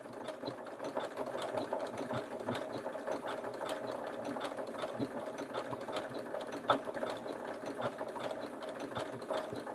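Sewing machine stitching fabric with a steady, fast mechanical chatter, running continuously at moderate volume with a pivot at an angle mid-seam.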